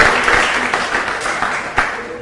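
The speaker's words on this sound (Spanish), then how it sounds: "Esta palabra se merece un aplauso." Congregation applauding during a Catholic sermon, a steady, fairly loud burst of many hands clapping that carries evenly through the whole stretch, with a few sharper claps standing out.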